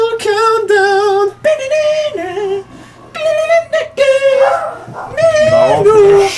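A dog in the Super Mario Odyssey video game gives a run of loud, close yips, whimpers and short barks in quick bursts, with brief gaps between them.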